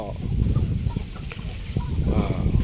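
Chickens clucking at a Thai farm that raises five-month-old Phanat-strain fighting fowl, with scattered calls rising over a low, busy background.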